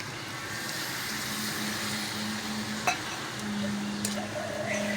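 Bitter gourd mixed with spices simmering in a pan just after a little water goes in, a soft continuous sizzle and bubbling with an occasional faint clink of a utensil, no voices.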